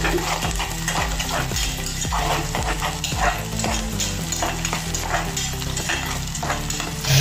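Chopped onions and green chillies fry in a pan for khichdi, a dense, continuous sizzle close up with repeated scraping stirs of a utensil against the pan.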